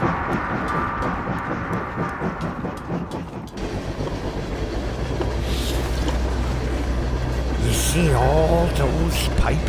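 A train rumbles along in the video game Oddworld: Soulstorm, with a rhythmic clatter early on giving way to a deep, steady mechanical drone, while voices talk over it.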